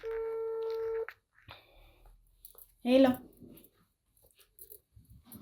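A steady telephone dialing tone sounds for about a second, followed by quiet shuffling and a brief loud voice burst over the phone speaker, with faint clicks afterward.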